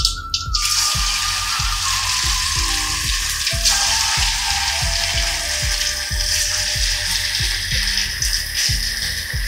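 Chicken pieces coated in vermicelli, mixed with boiled potato and blended chicken, dropped one by one into hot oil for a chicken starter, with a loud, steady frying sizzle and regular soft thumps as each piece goes in.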